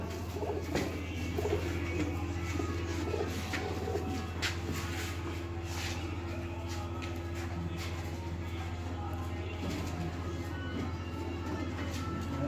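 Pigeons coo steadily in a loft, their soft repeated calls blending over a constant low hum, with faint voices in the background.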